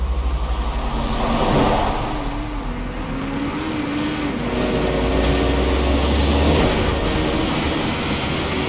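A car driven in the racing video game Forza Horizon 4 in a winter setting, a continuous loud engine drone with a rising and falling tone, mixed with road and wind noise.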